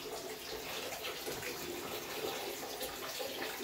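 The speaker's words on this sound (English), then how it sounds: "Why is there water running?" Water runs steadily from a tap in a hallway at night, a faint, even hiss of flowing water lasting a few seconds with no break.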